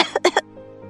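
A woman coughs in a kitchen thick with smoke: three quick, sharp coughs close by in under half a second, followed by quiet.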